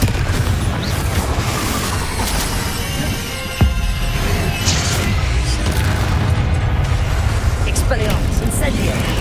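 Confringo spell blasts in Hogwarts Legacy, with booming explosions and crackling impacts amid busy combat noise, one sharp burst standing out midway, all under a voice calling out spells.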